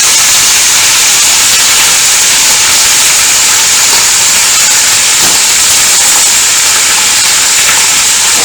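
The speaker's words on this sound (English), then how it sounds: "You can hear that sizzle." Liberally seasoned pot roast meat sizzles loudly in a hot pot on the stove, a dense, continuous hiss and crackle that stays steady and close with no speech over it.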